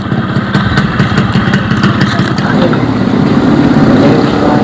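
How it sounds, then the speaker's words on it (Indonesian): A motorcycle fitted with a racing exhaust (knalpot racing) runs at a close, loud, throaty idle that swells into a rougher, rising rev toward the end, with no voices heard. "Knalpot racking dari Kota Nopali ya teman-teman."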